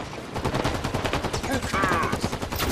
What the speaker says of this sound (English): Enemy fire. Enemy will be firing on me.